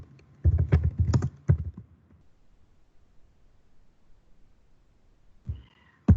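Keys clatter on a computer keyboard in a quick burst of close, irregular taps, then fall quiet, with a single brief tap returning near the end.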